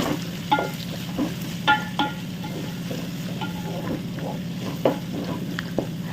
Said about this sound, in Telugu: ఒకసారి మళ్ళీ అంతా కలిపేసుకుందామండి